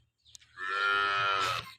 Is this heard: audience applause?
no